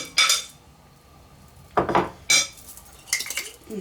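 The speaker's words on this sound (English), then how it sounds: "Mix with the egg." Bakewell tart filling being mixed with egg in a bowl, a few separate bursts of a utensil clinking and scraping against the bowl with quiet gaps between, no talking.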